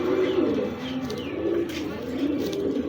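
A breeding pair of pigeons coos in soft, repeated low phrases, steady and close throughout, with no talk over them.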